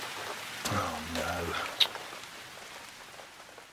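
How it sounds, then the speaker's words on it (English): Rain falls in a soft, even patter under a brief voice-like sound, faint and steady throughout with one small sharp tap. "They were playing tennis when it started to rain."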